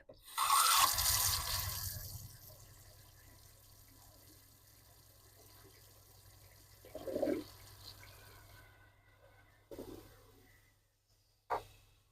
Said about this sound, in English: I'm just going to remove the sink plug, start with my hot water side, and let it run